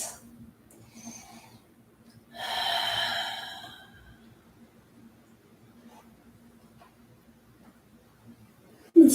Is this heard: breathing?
yes